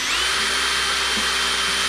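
A power drill grinds steadily into a hardened insert of a cheap anti-theft motorcycle or bicycle lock, giving a continuous loud whine that stalls on the tough steel and runs close and alone throughout.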